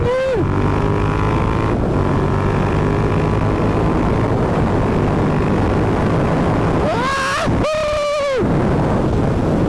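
A Suzuki Gladius 650 twin-cylinder motorcycle drones at a steady engine note, then revs hard near the end, climbing sharply in pitch twice with a quick gear change between, loud and close.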